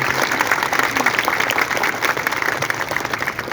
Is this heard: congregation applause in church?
yes